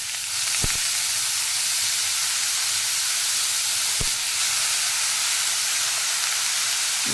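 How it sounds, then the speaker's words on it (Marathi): Amla (Indian gooseberry) sautéing in ghee over a low flame, a loud continuous hiss of frying with two brief sharp spoon knocks against the pan. "पूर्ण आवळा आता मी आहे चमच्याने घालून परतून घेते तुपावर चांगलं परतून घ्यायचं"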